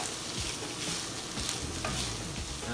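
Chicken asado filling is stirred in a hot pan, a spoon scraping in quick, irregular strokes over a constant soft sizzle, close and fairly quiet, with no one talking.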